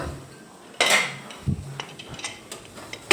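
A bowl of leftover rice is set down inside a cooking pot, giving one sharp clatter followed by several lighter knocks and clinks of the dishes shifting against each other, close by.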